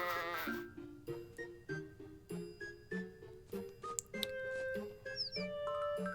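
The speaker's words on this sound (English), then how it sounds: "Look at how cute the baby sheep is." Baby sheep bleating in the farming video game Harvest Moon: The Winds of Anthos, a string of short, high, quavering cries repeated steadily and close, with brief pauses between calls and small chirpy game tones layered over them.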